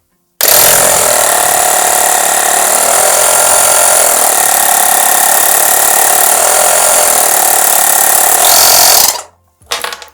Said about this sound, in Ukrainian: тепер можемо вимкнути і послухати, як буде працювати